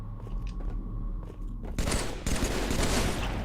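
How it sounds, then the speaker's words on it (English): Video game gunfire bursts out loud, a sustained fusillade of automatic shots erupting midway and continuing densely after a quieter stretch of game ambience. "Getting sniped right off the fucking bat."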